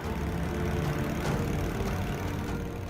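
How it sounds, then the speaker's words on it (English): A 10-horsepower petrol engine on a garden chipper runs with a steady, loud, low drone and a constant rumble, with no break and nothing else heard. "A 10-horsepower engine, as mighty as a motorbike."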